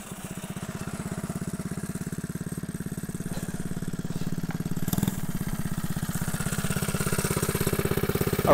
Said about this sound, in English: So we're going to do a stop test on what brake stops the mini bike faster. The first is going to be the scrub brake.